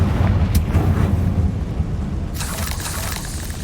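Confringo fire spell blasting in Hogwarts Legacy: a loud, rumbling eruption with crackling debris, followed by a bright, hissing burst of noise in the final second.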